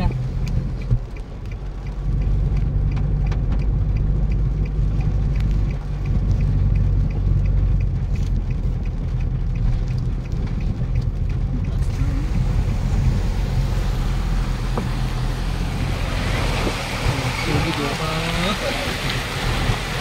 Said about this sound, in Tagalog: Malapit na sa bintana ng sasakyan natin yung baha.